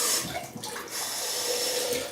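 Cold water runs from a tap during shaving, a steady, close splashing and hiss of flow that stays fairly even for a couple of seconds with slight surges.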